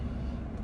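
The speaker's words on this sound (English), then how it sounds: "Seems like I have a little bit of cough." A single short cough, or throat clear, bursts out close to the microphone at the very end, after quiet car-interior background noise.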